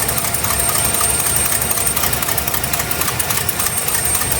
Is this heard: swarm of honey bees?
no